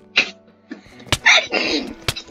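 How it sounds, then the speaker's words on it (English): One sudden, close sneeze bursts out loudly with a sharp breathy release, followed by a few brief vocal sounds and clicks as a gaming session continues. "Sorry, just my sneeze."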